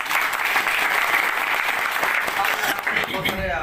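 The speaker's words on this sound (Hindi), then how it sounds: "मिस्टर विनोद गुप्ता सर, इनके लिए जोरदार ताली होना" Loud, dense applause from an audience at a speaking event, continuous and steady throughout before fading slightly near the end, with no voice over it.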